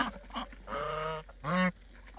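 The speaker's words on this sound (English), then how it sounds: "there's the 5 roan ducks and the 3 geese" Close honks and quacks from geese and roan ducks, two drawn-out calls in a row against quiet surroundings.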